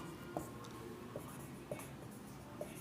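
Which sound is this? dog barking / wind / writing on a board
writing on a board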